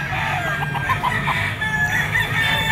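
A young gamecock stag crows at a busy open-air pet market, its strained call riding over steady crowd murmur and nearby clucking of other fowl.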